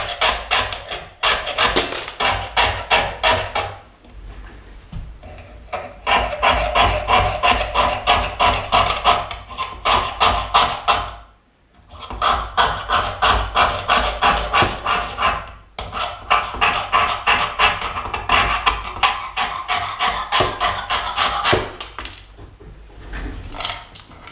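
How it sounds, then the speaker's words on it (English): A jeweler's saw cuts an inside curve in gold sheet, a steady rapid rasping of short back-and-forth strokes, close and loud, running in long runs broken by brief pauses. "So I'm going to saw that inside curve"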